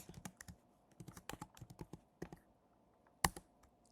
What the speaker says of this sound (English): I'm just going to type in Christmas